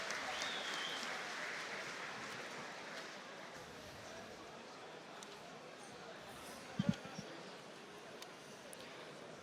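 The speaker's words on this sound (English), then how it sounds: "Big applause for both athletes, Ruslan, Mammadov, and Nabil, Haryouli." Crowd applause for two fighters, Ruslan Mammadov and Nabil Haryouli, after a kickboxing fight, a steady arena clapping that gradually thins out, with a few thumps partway through.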